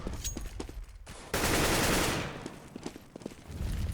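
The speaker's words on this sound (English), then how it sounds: "Shots go out." Gunfire from a Counter-Strike match on the de_cobblestone map, a burst of rapid automatic shots followed by a sustained loud blast of noise, then scattered single cracks over game ambience.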